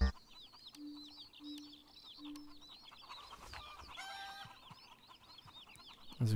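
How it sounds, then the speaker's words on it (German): A flock of chickens clucks continuously in Pure Farming 2018, fairly faint and steady, with soft game tones early on and a brief voice at the very end. "denn die alten Hühner legen nämlich keine Eier mehr"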